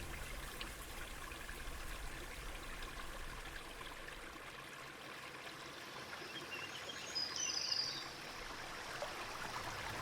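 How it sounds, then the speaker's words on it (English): Waterfalls and streams in an alpine garden, a soft, continuous rush of flowing water heard at a distance, swelling slightly toward the end. "It's next to many waterfalls"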